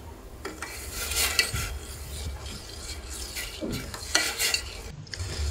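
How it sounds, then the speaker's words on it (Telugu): About 150 grams of sugar is stirred with water in a pan over a high gas flame, with repeated rasping scrapes of the spoon and a soft sizzle underneath, close and fairly quiet, with no talking. "గ్యాస్ని కొంచెం హైలో ఉంచుకొని ఈ పంచదారని బాగా కరిగించుకోవాలి"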